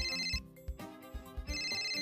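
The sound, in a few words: phone ringtone ringing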